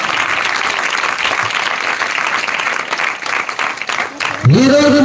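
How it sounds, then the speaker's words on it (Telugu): Congregation at a church service clapping loudly, a sustained dense burst of applause with a voice speaking over it, ending as music or a held tone comes in. "గట్టిగా చప్పట్లు కొడదాం."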